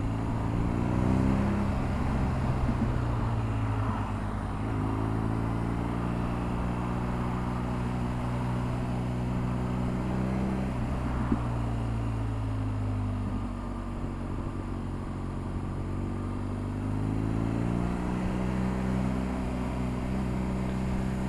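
A McLaren sports car's engine drones steadily while driving, its pitch rising and falling as gears shift, including a downshift from third to second, heard continuously with no talking.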